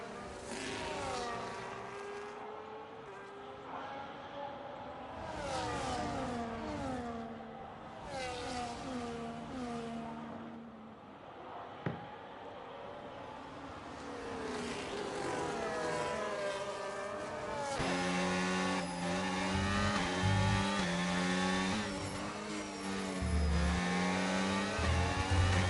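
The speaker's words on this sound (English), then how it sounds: "Look at this, 4 cars fighting for P8 on track." Several race cars on track in a Belgium racing video game, engines droning and revving as cars battle closely, loud and continuous with shifting pitch as they pass and accelerate.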